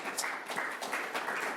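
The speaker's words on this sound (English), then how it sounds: "I think you all deserve a great round of applause for being with us today." Brief, modest applause from a small audience at a talk on lowering utility bills, a soft scattering of claps lasting only a moment.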